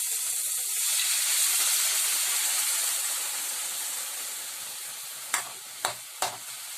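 Water hitting a hot pan while cooking pancit canton sets off a loud, bright sizzle and hiss that slowly settles, then three quick clinks of a utensil near the end.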